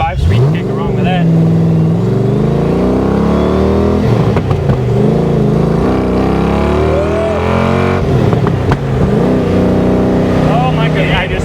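Supercharged 1965 Factory Five Cobra replica with a Tremec 5-speed gearbox, heard from the cabin as the engine roars and revs up through the gears in long rising sweeps, loud and continuous, with people talking over it.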